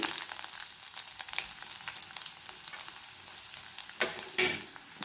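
Garlic, ginger, shallots and green chili sizzle as they are sautéed in a pan, a steady soft frying hiss with a few louder stirring scrapes near the end.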